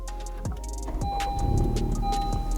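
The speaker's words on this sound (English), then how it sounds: "let me get the car started" A Honda car is started up, with the starter cranking and the engine catching and settling into a steady idle, close by and alone without talk.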